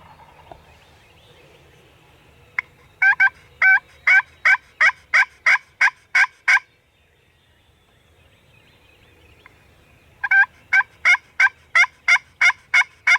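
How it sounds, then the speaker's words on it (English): A wild turkey calls at dawn during a spring turkey hunt, giving two loud, nearby runs of evenly spaced, rhythmic notes separated by a short quiet pause, with no talking. "I just heard a bird behind us triple gobble."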